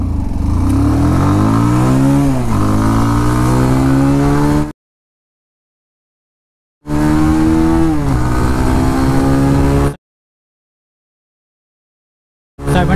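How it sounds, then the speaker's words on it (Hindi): A 2023 Bajaj Pulsar 220F motorcycle accelerating hard in a 0-60 and 0-80 speed test: two long, loud runs with engine pitch climbing through gear changes, separated by silence, and a third run just starting at the end. "ये बाइक 0 to 60 और 0 to 80 जाने में कितने सेकेंड का समय लेती है"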